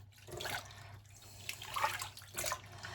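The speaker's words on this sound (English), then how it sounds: "And now I'm just going to rinse this off. Give it a really good rinse." Water splashes in a few irregular bursts as it rinses over freshly tattooed skin, close by and moderately loud, with quieter trickling between the surges.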